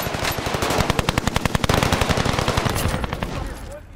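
Rapid automatic gunfire in the Warzone video game, a dense burst of sharp shots hammering close and loud before trailing off into fainter distant firing.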